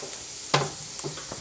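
Burger patty browning in a pan for a cheeseburger, giving a steady soft sizzle with a few light scrape or stir clicks, heard alone and fairly quiet.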